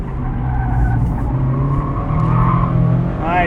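A 2024 Mazda MX-5 Miata Club in track mode accelerates hard up an entrance ramp, its engine droning loudly and rising in pitch from inside the cabin.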